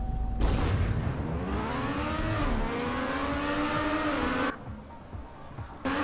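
Small car engine in the racing game Trackmania, revving and shifting pitch steadily as it drives, then dropping off briefly before picking back up near the end.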